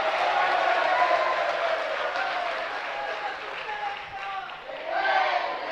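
At a Hindi-language Jain sermon, an audience claps steadily in a dense, continuous patter, joined by crowd voices and swelling again at the close.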